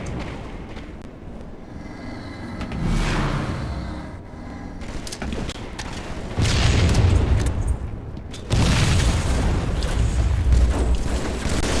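Bomb explosions go off in a video game, heavy booming blasts that roll and swell in layered waves, growing louder toward the end with rumbling debris.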